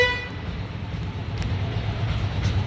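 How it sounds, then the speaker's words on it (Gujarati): A car horn gives a short tonal toot right at the start, from a vehicle held up outside a home because a plumber's vehicle is parked across its way, followed by a steady low rumble of outdoor background noise. "એટલે કદાચ હોર્ન મારતા લાગે છે ગાડીવાળા ભાઈ"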